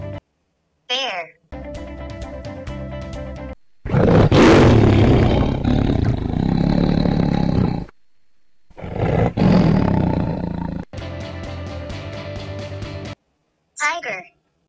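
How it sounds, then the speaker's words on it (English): Two long, powerful tiger roars rumble up close, framed by short musical jingle segments and brief high vocal flourishes at the start and end. "Tiger."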